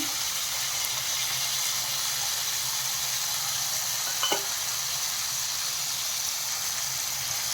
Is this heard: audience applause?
no